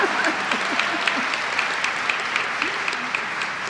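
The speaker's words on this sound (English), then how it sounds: "That's an applause line." An audience applauds at a Women's History Month reception honoring women veterans, steady clapping that stays even and continuous throughout, with a few sharper individual claps standing out.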